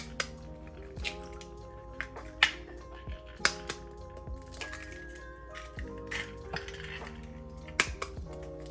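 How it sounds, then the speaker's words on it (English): Eight eggs cracked by hand one after another for a French coconut pie, giving sharp, close taps and shell cracks at irregular intervals, with faint wet drips and soft kitchen clinks beneath a quiet background hum. "now we're going to crack all 8 eggs"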